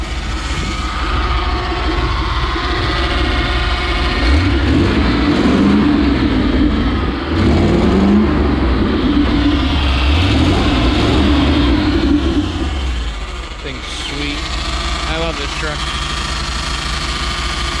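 Chevy small-block 350 V8 running in an Isuzu NPR ramp truck, a steady low rumble with a few revs rising and falling, then settling lower near the end while someone talks throughout.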